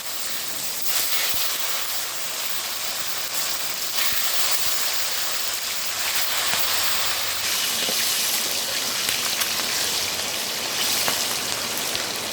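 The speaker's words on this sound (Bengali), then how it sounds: "আমাদের এখানে বৃষ্টি হচ্ছে।" Steady rain falls outside a home kitchen, a dense even hiss of drops hitting surfaces that holds at one level throughout, with no talk.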